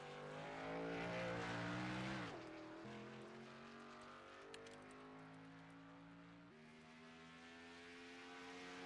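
A race car engine drones loudly in the ARCA Pro racing game on iOS, its pitch climbing and then dropping sharply at two downshifts, one early and one late, as the car works through a corner.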